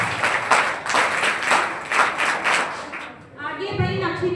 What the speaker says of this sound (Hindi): बड़ी ताली गुरु